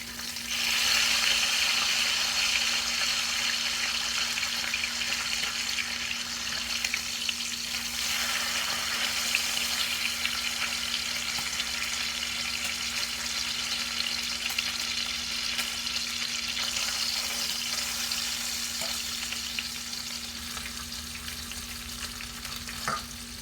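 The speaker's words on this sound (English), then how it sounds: "Now let's move on back to the bacon. I'm gonna have to flip it." Bacon sizzles in a pan with a continuous, dense crackle of hot fat that holds steady and close for the whole stretch, fading only slightly near the end, with no talking.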